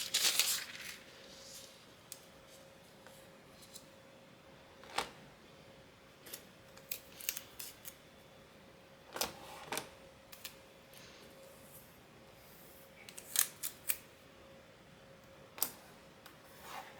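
Scissors trim excess paper off a foiled birthday card project: a scattering of short, crisp snips and clicks at close range, spaced irregularly over a quiet background with no talking.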